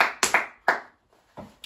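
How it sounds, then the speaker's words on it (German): Several sharp hand claps, close and loud, in an uneven burst of about five or six strikes with brief silences between them, no voices. "Ich klatsche jetzt beide und dann ist es real."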